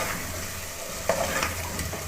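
Potatoes and lentil wadi frying and being stirred in a pot, giving a steady close sizzle with soft scraping stir strokes throughout and no talking.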